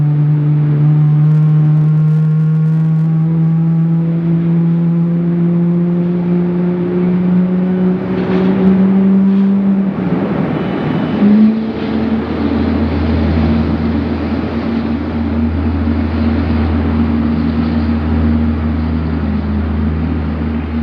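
Airliner taking off at night from runway 16 right at Sydney Airport, a loud continuous jet roar with rising engine tones that swell and shift midway, then settle into a heavy low rumble.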